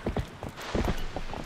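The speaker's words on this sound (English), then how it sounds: "Why is the horse so hard to maneuver?" Horse hooves clip-clop in a quick, uneven run of close steps as a horse is ridden in the video game Legend of Zelda: Twilight Princess.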